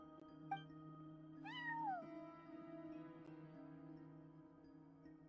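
A cat in the video game Genshin Impact gives a single clear, rising-then-falling meow, soft and close, over a quiet game hum with a couple of small clicks.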